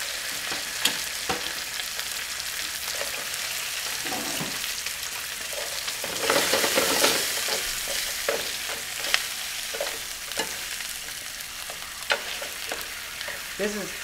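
Lobster claws and tail sauteing in olive oil in a pan give a steady, close sizzle with scattered pops and clinks of stirring, swelling louder midway through.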